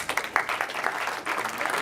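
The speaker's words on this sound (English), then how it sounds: "Give him a round of applause." An audience claps in a steady patter of many hands, a short, moderately loud burst of applause in an indoor talk setting.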